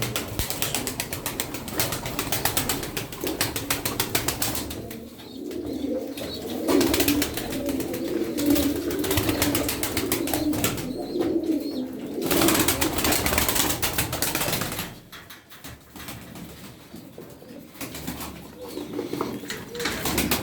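Miski pigeons cooing softly with occasional bursts of wing flapping, set against a busy, fluctuating outdoor background.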